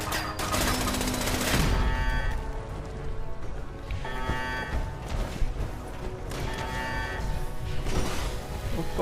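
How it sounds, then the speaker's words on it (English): Laser turrets in Fallout 76 blast away in dense, rapid bursts, a steady loud barrage of crackling energy shots that keeps up throughout with clanging impacts layered over it. "getting pummeled by his laser turrets though"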